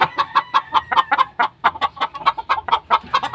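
A rapid run of sharp, evenly spaced clucks from backyard chickens, loud and near, repeating in a steady staccato rhythm for a few seconds with no talking over it.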